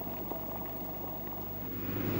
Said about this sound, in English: The liquid now boils at a much lower temperature than before.